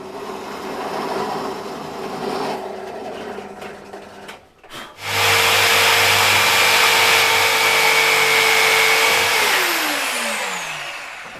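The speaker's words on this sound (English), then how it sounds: "drill out the corners so I can get the jigsaw in to cut out the triangles" A loud jigsaw cutting wood whirs steadily after a brief pause, its motor buzzing continuously, then winds down with a falling pitch near the end.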